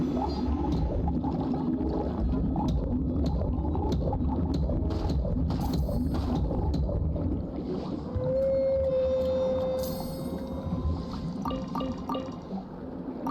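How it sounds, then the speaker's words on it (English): A pulsing sonar-wave ability in Genshin Impact's underwater Fontaine area sounds as a sustained watery hum and tonal whale-like call, with scattered clicks and pulses over a dense, continuous game soundscape. "A pulsing sonar wave that has detection-based capabilities."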